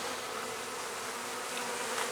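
Honey bees buzz steadily at an open beehive, a dense close swarm drone that stays loud and even throughout with no voices.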